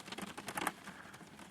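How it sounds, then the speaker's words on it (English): Hard rain drums on a boat out on a lake during a thunderstorm, a dense, quiet patter of quick taps sounding almost like hail. "You hear the rain? Sound like hail, don't it?"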